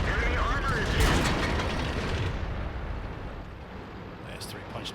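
In the World of Tanks video game, a tank shell strikes with a heavy booming explosion that rumbles and slowly fades, with game effects and voice chat in the background.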